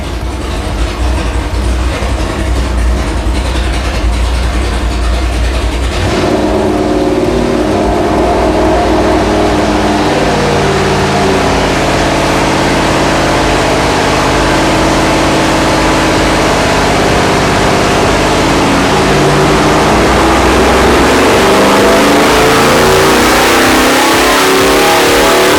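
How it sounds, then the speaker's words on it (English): A 572 cubic inch big-block Chevrolet V8 in a 1969 Camaro doing a low-RPM pull, a loud deep roar that climbs steadily in pitch after a sharp onset and holds to the end. "I'm going to do a low RPM pull, just to show you how much torque it makes down low."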